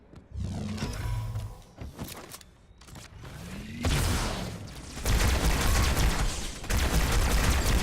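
Rapid bursts of needler fire from Halo 2 Anniversary, dense crackling volleys and sharp impacts stacking up loudly and close, with no voices.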